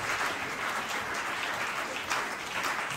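A church congregation applauds steadily and warmly, a dense, continuous clatter of many hands clapping without pause, with no speech over it.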